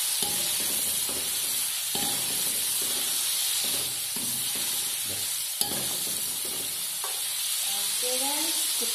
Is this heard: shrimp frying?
yes